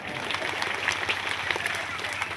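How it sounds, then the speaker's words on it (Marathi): A crowd at an outdoor religious discourse in a village claps steadily, the applause dense and continuous throughout, with no voice standing out above it. "अरे टाळ्या वाजवत राहील याच्या नावात"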